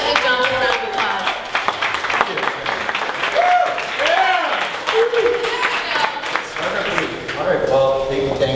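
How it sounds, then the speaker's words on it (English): A standing audience at a 1 Million Cups Dallas startup event claps together in steady, dense applause that fills the room for several seconds, with cheering and a few voices mixed in. "Give Jonathan a round of applause"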